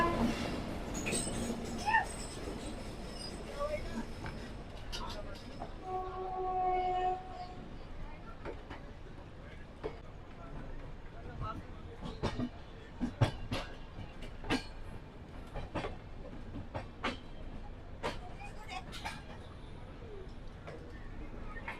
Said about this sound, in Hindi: और किसी ट्रेन का डिपार्चर